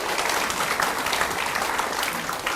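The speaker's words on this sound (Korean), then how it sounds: "우리 하나님께 감사의 박수를 드리겠습니다." A church congregation gives a burst of thankful applause during a Sunday service, dense and continuous clapping at close range throughout.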